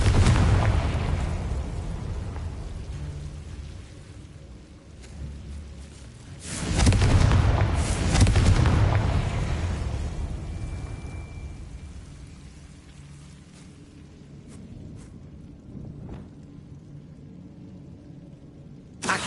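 A Confringo blasting spell in Hogwarts Legacy bursts into a loud explosion partway through, followed by a fading rumble and a few smaller pops against a quieter, crackling background.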